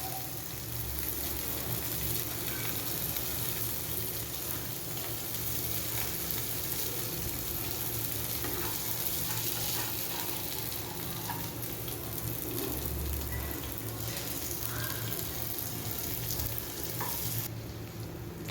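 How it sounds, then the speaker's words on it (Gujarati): Pav buns toasting on a hot pan for Bombay-style cheesy garlic masala pav street food, giving a steady, loud sizzle and frying hiss that runs unbroken throughout with no talking. "હવે તેની અંદર આપણે બનાવેલો પાઉં મૂકી દઈશું અને તેને ઉપરથી અને નીચેથી બંને બાજુથી શેકી લઈશું"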